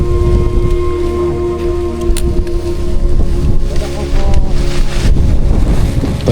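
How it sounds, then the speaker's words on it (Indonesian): Strong wind gusts on the Mount Lawu trail leaving camp toward the summit, a loud constant roar buffeting the microphone in surges, with a low steady drone underneath and no talking. "Angin bertiup kencang sejak langkah pertama meninggalkan area camp"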